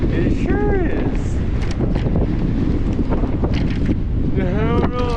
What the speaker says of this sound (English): Wow, Alex, this is windy.